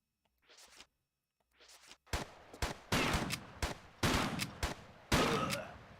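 Gunshots in the video game Tomb Raider III Remastered: after a few faint scuffs, a run of sharp, loud shots fires in quick irregular succession, about seven or eight blasts.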